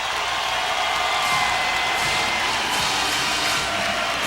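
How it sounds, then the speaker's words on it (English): A college basketball arena crowd at a Mississippi State home game, a steady loud roar of cheering that fills the space and holds without a break. "This crowd loves it"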